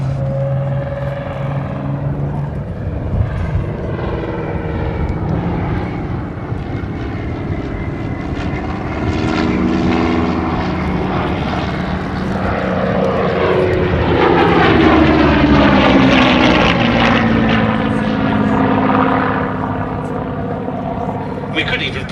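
A Hawker Hurricane Mk. XII fighter at Duxford roars past with a loud propeller engine drone that swells and sweeps down in pitch as it passes, while someone talks over it.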